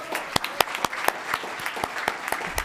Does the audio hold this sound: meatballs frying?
no